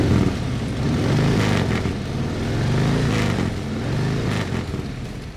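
Custom 2021 Harley-Davidson Softail Heritage Classic with the 107 V-twin engine running close by, a deep, loping rumble with throttle blips and revs held steady throughout, no speech over it.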